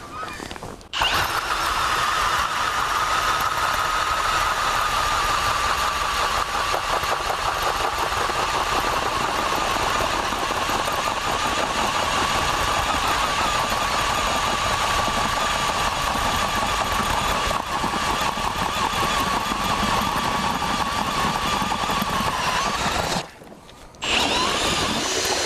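Gas-powered ice auger engine running loud and close while drilling a hole through ice, a steady high-revving drone lasting over twenty seconds before cutting off abruptly.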